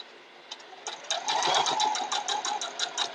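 A home sewing machine stitches the last seam on a miniature Bear Paw quilt block, its rapid even run starting with a few short bursts and then settling into a steady, close, moderately loud whirr.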